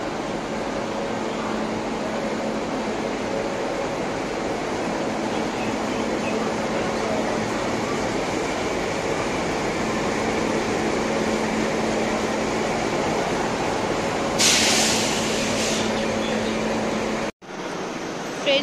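Steady rumbling interior noise of a Shatabdi Express train hauled by a WAP 5 electric locomotive, a continuous broadband roar with a brief louder burst near the end.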